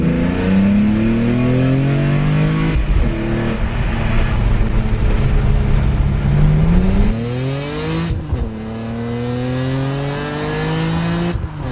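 A modified BMW E46 M3 accelerates hard beneath a bridge, its engine climbing through the revs with brief drops at gear changes, loud and close with echoing reverberation off the structure.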